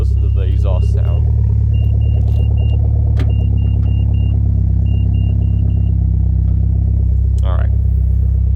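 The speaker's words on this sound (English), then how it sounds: "Also listen to the exhaust sound." Infiniti G37 exhaust rumbling at idle, a loud steady low drone close by, with a few brief clicks and beeps over it.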